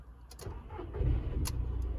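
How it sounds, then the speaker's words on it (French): A Volkswagen Polo 4 with the 1.2 engine cranks briefly and fires up at once, settling into a low steady idle close by, with small clicks and a light jangle of keys at the start. "je vais faire un petit démarrage du moteur"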